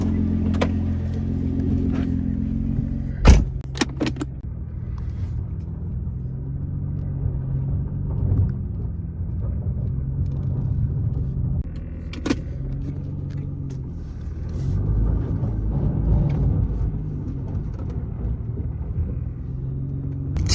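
A Nissan GT-R on race tires drives along with a steady, low engine rumble heard from inside the cabin. A few sharp clicks and thumps occur near the start and midway, and there is no talking.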